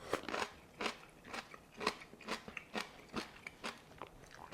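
Crisp, wet crunching of fermented bok choy being bitten and chewed, about eight to ten close crunches in a steady rhythm, no talking.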